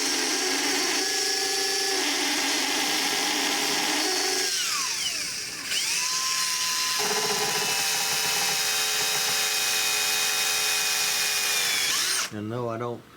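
A power drill whines steadily and loudly at close range while drilling into a wooden gun stock, its pitch shifting as it works, with a rattling buzz running through it before it cuts off.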